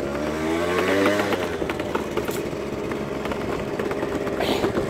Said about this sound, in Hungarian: berúgom a motort